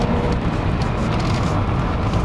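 Mercedes-Benz W124 500E engine note inside the cabin while accelerating to highway speed, a steady, muffled broadband drone with road and tire roar and no pauses.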